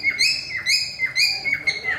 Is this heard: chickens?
no